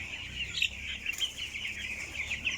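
Sixteen-day-old broiler chickens in a grower house keep up a steady chorus of high peeping and clucking, a dense flock sound with a few sharper calls rising above it.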